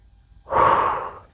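A single deep, breathy inhale or exhale taken during an at-home full-body strength and mobility workout, close and fairly loud, lasting under a second after a quiet lead-in.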